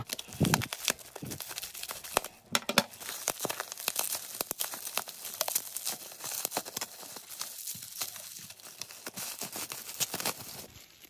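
A parcel being unboxed, with packaging crinkling, crumpling and tearing in quick, irregular bursts close by, continuing throughout with brief pauses.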